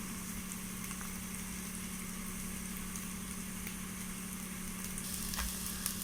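Ginger garlic paste sizzles and fries steadily in a pan for a vegetable biryani, a continuous close hiss with occasional small pops and no talking.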